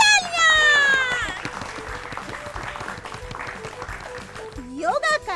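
Bright burst of applause from a group after a correct quiz answer on a children's learning show, dense clapping fading over several seconds beneath music.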